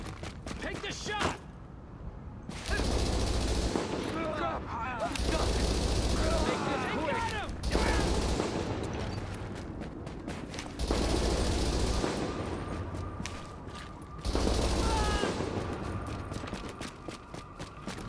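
Sustained bursts of game gunfire in a tunnel defence mission of a shooting game, loud rapid volleys in several long stretches with short pauses between, over a busy backdrop with speech-like calls mixed in.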